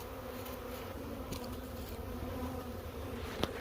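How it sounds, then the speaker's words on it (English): Honey bees swarming around a newly installed package hive, a steady, dense buzz of many insects, close and fairly quiet, with a few brief knocks and handling sounds. "As you see, all the bees are actually out of this."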